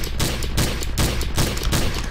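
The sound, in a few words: gunfire in a video game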